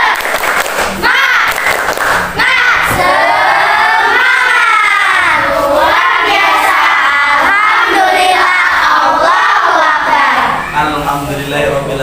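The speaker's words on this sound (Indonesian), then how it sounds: "Tepuk semangat." A classroom of children does a rhythmic spirit clap, with steady clapping blended into loud, continuous group chanting that fills the room.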